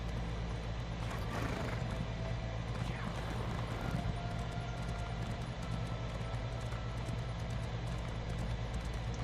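A horse mount's hooves clip-clopping in a video game, quick repeated strikes over a dense continuous rumble of game ambience and music, steady and moderately loud through the stretch, with no voices.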